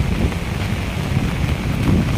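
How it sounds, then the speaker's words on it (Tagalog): Strong monsoon wind roars at Manila Baywalk Dolomite Beach during heavy rain and rough waves, a dense, steady rumble of gusts buffeting the microphone with surf washing underneath, loud and unbroken. "tuloy-tuloy po din yung malakas na alon at may kasamang hangin"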